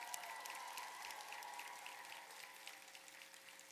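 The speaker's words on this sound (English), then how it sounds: "Give them a big round of applause." A commencement crowd applauds graduates' families, giving a dense, even patter of many hands clapping at a distance that stays steady and fades slightly toward the end, with no talk over it.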